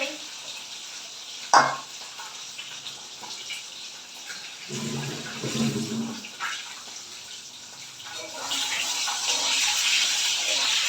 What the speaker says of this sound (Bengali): তেল গরম হয়ে গেছে এবার ডিমগুলো দিয়ে দেবো